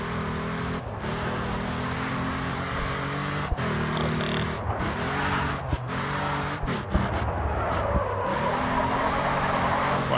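Mercedes SL65 engine racing along a touge road in the Grid 2 video game, a loud steady drone with rising and falling revs, gear shifts and brief lifts throughout, no talking.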